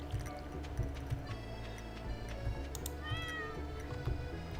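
A cat meows in the Stardew Valley farming game, a short rising call partway through, set over steady game music and ambient farm sounds.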